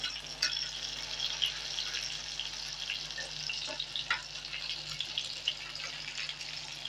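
Eggplant in gram flour (pithachi vangi) being stir-fried in an open pan, a soft steady sizzle with scattered light scraping and stirring clicks, close and fairly quiet.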